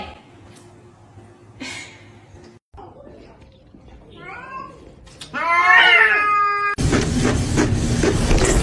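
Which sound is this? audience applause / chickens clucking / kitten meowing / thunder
kitten meowing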